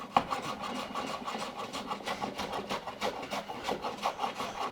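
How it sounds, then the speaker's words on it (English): A sharp block plane shaves Douglas fir in quick repeated rasping strokes, a close, steady scraping rhythm of short passes with no talking. "I'm just going to use a nice sharp block plane to take that down to level"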